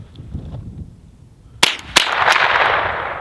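Two sharp, fairly loud cracks about a third of a second apart from a suppressed Ruger 10/22 rifle, followed by a sustained noisy wash of sound to the end.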